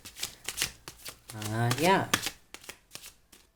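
Tarot cards shuffled at close range in several short riffling bursts, with a person speaking briefly in the middle.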